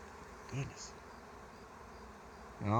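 Faint buzzing of swarming honeybees in flight, with a couple of brief, slightly louder passes near the start and end against a quiet outdoor background.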